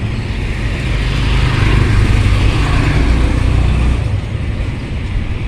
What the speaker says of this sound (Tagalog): Oh, sasakyan.